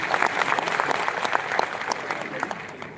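An audience at a cultural festival claps loudly in a dense, sustained round of applause that eases slightly toward the end, with a voice audible underneath.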